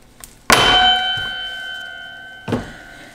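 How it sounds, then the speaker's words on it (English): Taut wires of a soap cutter slicing through a loaf of rainbow mint chip soap, giving a sharp metallic clang with a long ringing tone, then a second, softer clang about two seconds later. "I just love the sound of the wires. They get a little loud sometimes"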